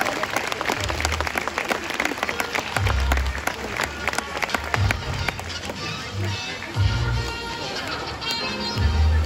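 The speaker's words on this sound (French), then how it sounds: "on peut l'applaudir bien fort" A crowd at a water show at Beauval ZooParc in France applauds loudly and continuously, with dense clapping and occasional low thumps running underneath.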